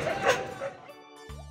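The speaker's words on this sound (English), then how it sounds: "D is for dog." A dog gives a single short, close bark-like yip at the start, then a musical note from a children's alphabet song takes over.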